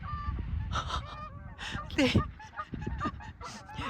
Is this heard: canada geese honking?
yes